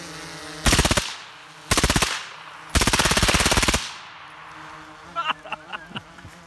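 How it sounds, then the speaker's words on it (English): A full-auto M16 fitted with a DoomsDay 5.56 suppressor fires three sustained bursts, each a rapid, loud clatter of muffled reports, followed by a few quieter single pops and fading ringing. "This is a full auto M16. So we're gonna see how it does on full auto."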